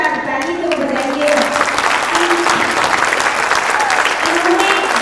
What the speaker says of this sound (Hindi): इन कलाकारों के सम्मान में जोरदार ताली तो बजाइए